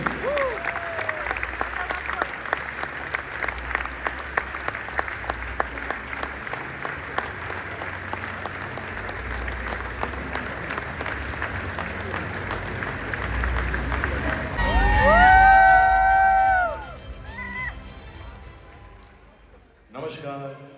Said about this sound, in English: round of applause, the Honorable Prime Minister of India, Shri Narendra Modi ji.